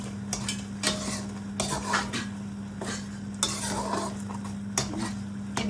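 Potatoes are stirred into a pasta sauce in a pan, a spoon scraping and knocking against the metal in repeated strokes while a steady sizzle holds underneath, close and fairly loud.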